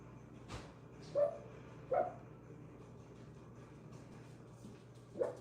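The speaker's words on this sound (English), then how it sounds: "I gotta go let my little dog in." A little dog barks three times in short, muffled yips, fairly faint and spaced apart, as if from behind a door in another room, with a low steady hum underneath and no talking.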